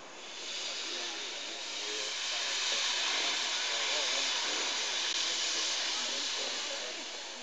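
Steady, broad steam hiss from a locomotive at a railfair holds for several seconds, swelling slightly in the middle, with faint murmuring voices underneath.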